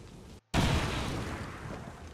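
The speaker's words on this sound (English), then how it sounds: "So, throw a frag grenade." A frag grenade blast in XCOM 2: one sharp, loud explosion after a brief silence, then a long rumbling decay with scattered debris.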